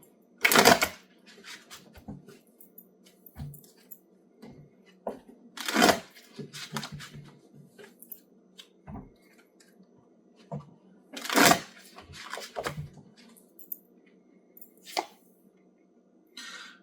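Tarot cards being shuffled at a table in a reading, with several rapid riffling bursts separated by softer taps and card handling, over a faint steady background hum.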